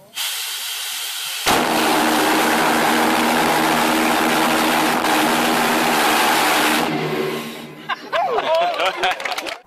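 Homemade hovercraft engine starts abruptly and runs at a steady, loud, hissing roar for about five seconds, then cuts off into scattered rattles and clatter.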